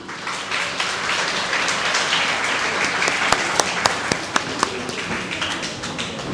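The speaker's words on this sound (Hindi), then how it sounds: "ज़ोरदार इस्तकबाल कीजिए नौनिहाल उस्मान गनी का।" Enthusiastic audience applause at a children's assembly in Lahore fills the space, a dense steady roar of clapping with a few sharper individual claps standing out near the end.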